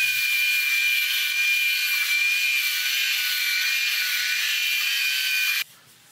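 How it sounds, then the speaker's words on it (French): A Remington MX5 head shaver trimmer running close up, a loud, steady high-pitched electric buzz that holds evenly for several seconds and then cuts off abruptly, leaving quiet room tone. "on va passer à la tondeuse."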